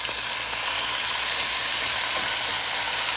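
Cabbage, onions, and orange and yellow bell peppers fry in a pan for Southern-style cabbage, giving a steady, dense sizzle that carries on without a break and with no voices.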